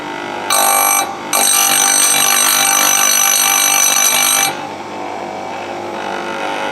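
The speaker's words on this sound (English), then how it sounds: "So now we can go ahead and fire up the grinder" A chainsaw chain sharpening grinder is switched on, giving a loud, steady high-pitched whine with a brief dropout near the start before it winds down, with no talking.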